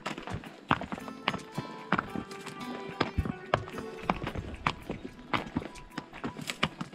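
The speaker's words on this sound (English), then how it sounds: "Ride the mule." A mule being ridden on a trail in bighorn sheep country, its hooves striking ground in an uneven walking rhythm of sharp, fairly close thuds with brush and movement noise between steps.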